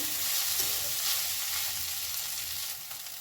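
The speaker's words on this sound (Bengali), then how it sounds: "চিড়ে মিশিয়ে নেব খুব সুন্দর করে" Flattened rice (poha) being stirred in a hot pan, giving a steady, close sizzle with faint scraping of the spoon throughout.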